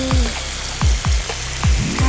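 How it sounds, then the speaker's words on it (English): Smashburger patties seasoned with salt and pepper sizzle on a hot Blackstone griddle at a campsite, steady frying crackle broken by several sharp thumps close by. "you place those unformed burgers with salt and pepper on the griddle"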